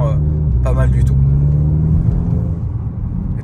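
Renault Mégane RS engine heard from inside the car, a muffled but present low rumble and hum that holds steady with slight revving, while people talk over it.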